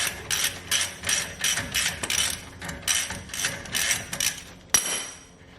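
A ratchet loosening brake caliper pins on a Duramax truck, clicking in quick repeated bursts with short pauses between strokes, followed by a sharp metallic clank near the end, close and clear with no talk.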